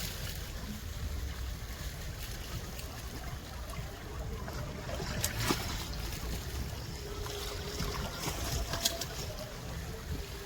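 A water bike running on a lake in Port Credit, Ontario, heard as a distant steady engine drone mixed with wind and lapping water, continuous and fairly faint.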